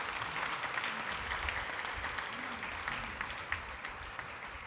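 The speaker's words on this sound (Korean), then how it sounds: "우리 큰 박수로 축복하겠습니다" Congregation applauding in a church after an infant baptism, a steady wash of many hands clapping, moderately loud and sustained throughout with no voices.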